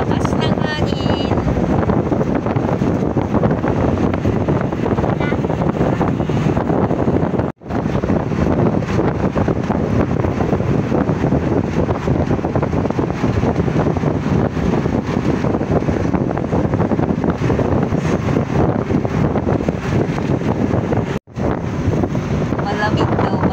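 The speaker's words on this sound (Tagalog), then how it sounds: "Ang lakas ng hangin." Strong typhoon wind buffets the microphone in a continuous heavy roar near a bus in Tacloban, with dull rumbling underneath and two brief dropouts.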